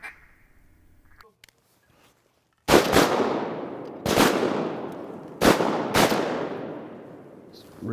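Shotgun blasts from duck hunters in flooded timber in Arkansas: four loud, sharp reports, two in quick succession at the end, each trailing off in a long rolling echo through the woods after a quiet start.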